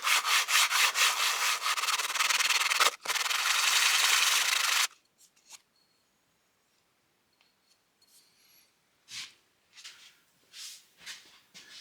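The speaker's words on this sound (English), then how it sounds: "I just have some 400 grit sandpaper. We'll just clean off this edge, that gasket surface." Someone sands the gasket surface on a 1956 VW steering box with 400 grit sandpaper, producing close, steady rubbing strokes for a few seconds, then only faint handling taps and scuffs.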